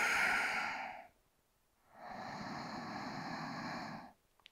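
Slow, deep breaths held in a yoga pose, with a long, loud exhale, a pause of quiet, then another long steady breath, close and breathy with no talking.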